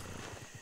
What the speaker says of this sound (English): Look at these horses.